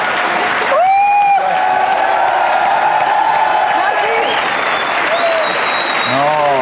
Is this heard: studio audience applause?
yes